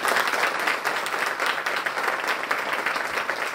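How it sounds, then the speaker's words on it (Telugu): A church congregation claps loudly and continuously for a few seconds, a dense, even wash of applause with no voices over it. "ఒకసారి గట్టిగా కొట్టండి చప్పట్లు ఒకసారి"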